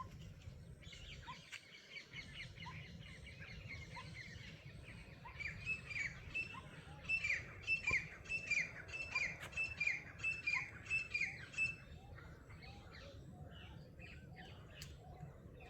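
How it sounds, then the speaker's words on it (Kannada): Birds chirp and call from a ragi tree, with a rapid run of bright, repeated tweets building in the middle and then easing off, over a low outdoor rumble and no voices. "ಕೇಳಿಸ್ಕೊಳ್ಳಿ, ಎಷ್ಟು ಚೆನ್ನಾಗಿರುತ್ತೆ ಈ ಪಕ್ಷಿಗಳದ್ದು"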